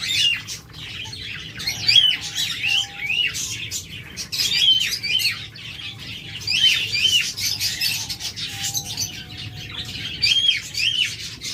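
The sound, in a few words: caged doves and pet birds at a bird shop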